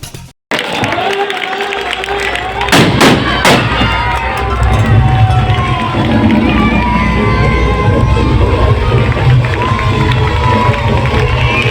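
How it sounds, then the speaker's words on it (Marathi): Firecrackers burst at an outdoor birthday celebration for a social worker: a few sharp cracks early on, then a loud, steady roar of a cheering crowd and shouting children throughout. "फटाक्यांच्या आतिषबाजीत समाजसेवक विनायक गायकवाड यांच्या अभिष्टचिंतन सोहळ्याचा केक समस्त मान्यवरांच्या उपस्थितीत कापण्यात आला"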